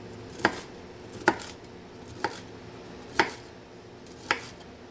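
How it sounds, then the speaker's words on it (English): A knife thinly slices broccoli on a cutting board: five distinct, evenly spaced chops about a second apart, close and crisp over a quiet room. "for your broccoli, you want to come in and just kind of give it a thin slicing"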